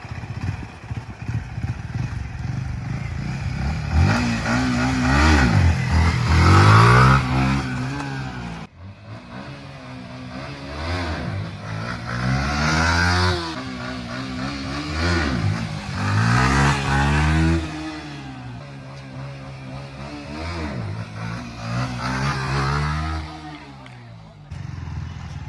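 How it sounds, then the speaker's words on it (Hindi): A motorcycle revs hard again and again while doing a wheelie, its engine rising and falling in loud, close surges across repeated throttle bursts. "अब मैं आपको करके दिखाता हूँ एक व्हीली"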